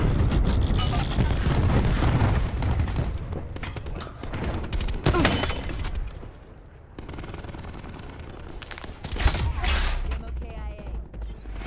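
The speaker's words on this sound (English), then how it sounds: "Throwing cluster grenade." Cluster grenade detonations in Call of Duty Black Ops 4 multiplayer, a volley of sharp blasts mixed with rapid gunfire, loud and close, with a quieter gap before another burst of explosions, under occasional game voice lines.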